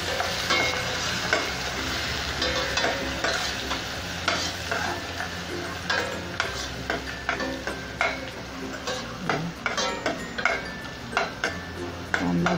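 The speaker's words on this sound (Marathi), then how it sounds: "कांदा थोडासा परतून घेऊया।" Chopped onion sizzles in hot oil in a pan for masala rice (veg pulav) while a spoon stirs it in a steady, rhythmic scraping pattern over a continuous close frying hiss, with no voices.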